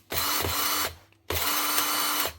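An old Hitachi cordless drill with stripped gearbox gears whirs at high speed in two bursts, each about a second long with a brief pause between, loud and close.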